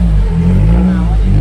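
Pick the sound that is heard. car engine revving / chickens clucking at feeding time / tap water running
car engine revving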